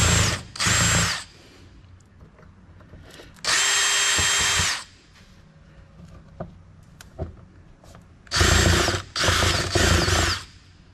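A power drill backs screws out of a computer case being scrapped, whining in four loud close bursts of about one second each, separated by quieter clicks and handling noise.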